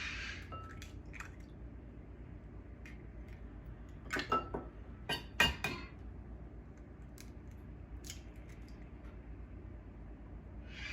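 Four eggs are cracked and dropped into a shortening and sugar mix for pumpkin bread, heard as short close cracks, wet plops and light shell clicks in a quiet kitchen, with a busier cluster midway.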